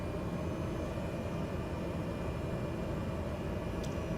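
An airliner in Microsoft Flight Simulator 2024 taxis toward the runway, its engines a steady, constant roar with broadband hiss throughout and no voices.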